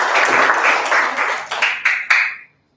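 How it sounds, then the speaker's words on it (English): An audience gives loud, close applause for the first team at a children's mime performance. The clapping is dense at first, then breaks into a few scattered final claps before it stops abruptly. "give a big round of applause for the first team"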